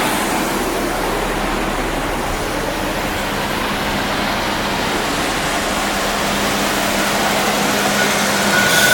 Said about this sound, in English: So we're still on high idle.